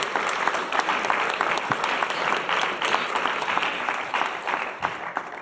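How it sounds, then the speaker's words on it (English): A teacher appreciation night audience claps steadily for several seconds, a dense, even round of applause heard alone at moderate volume. "let's give those guys a hand too."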